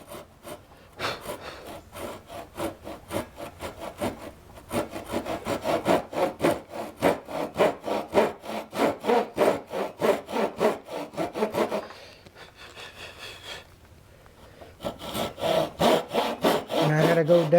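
Crosscut teeth of a hand saw rasp through wood cutting a tenon in steady rhythmic back-and-forth strokes, close and fairly loud, with a brief pause around the middle before sawing resumes.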